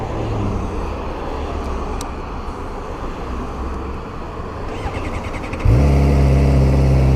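After several seconds of steady background rumble, a Suzuki GSX-R sport motorcycle engine fires up, started with the clutch pulled in while in neutral, and settles into a loud, close, even idle.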